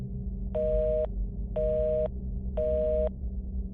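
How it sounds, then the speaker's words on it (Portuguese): A house telephone line with no connection gives a flat electronic tone in three evenly spaced half-second beeps over a low background hum. "quando peguei o fone ouvi um tom constante"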